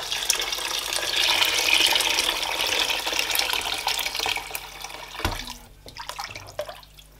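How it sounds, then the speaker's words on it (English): A steady stream of water pours into a pot of Nigerian jollof rice with meat stock for several seconds, then cuts off, leaving a few trickles and drips nearby. "And I'm also going to add water."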